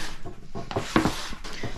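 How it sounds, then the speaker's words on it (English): Excess wax being peeled off a snowboard base with a hand scraper during home hand-waxing, heard as a few short, dry scraping strokes, close but fairly quiet. "That sound you're hearing is not the edge scraping on the scraper. It's the wax I'm peeling up."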